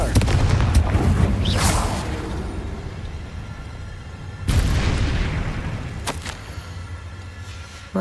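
Two heavy spell explosions from the Confringo curse in a Harry Potter video game, each a loud boom with a rumbling tail, the second landing about three seconds after the first, with smaller crackles between.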